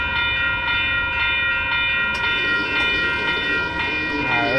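A train passing near a road, heard from an e-bike ride home along Broadway, with steady rumbling noise and sustained horn-like tones throughout, loud and continuous with no talk.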